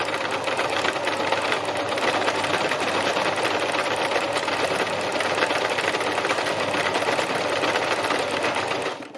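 A sewing machine runs nonstop at high speed doing free machine embroidery with the presser foot down, a loud, close, even mechanical whir that holds steady and then stops abruptly at the end.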